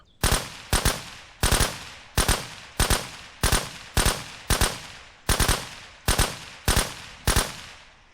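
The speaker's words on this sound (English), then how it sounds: "let's see if our assault rifle will get the job done" Assault rifle gunfire in the SURROUNDEAD zombie survival game, loud close shots fired in quick double-tap pairs, repeated steadily about every half second with short decaying tails and no talking.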